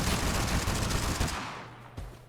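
Gunshots in the video game TABG, a rapid burst of loud automatic fire that stops abruptly, followed by a short fading tail and one last faint shot.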